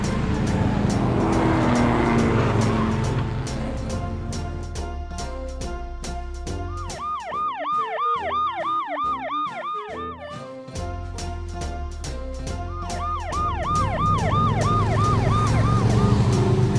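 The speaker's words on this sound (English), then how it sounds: "Police car." A police car siren wails steadily and loudly, with repeated rising and falling tones over engine and traffic noise and no talking.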